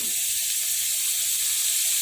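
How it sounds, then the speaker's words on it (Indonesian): Potatoes fry in a generous amount of margarine, giving a steady, bright sizzle and hiss that stays even and close for the whole stretch, with no talking. "ini sengaja agak banyak karena kita goreng menggunakan mentega"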